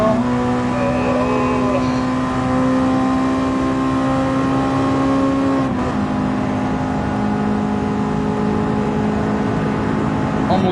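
A Honda Civic Type R's engine in a racing video game whines at steady high revs, the tone holding then dropping slightly at a shift, with a voice talking over it.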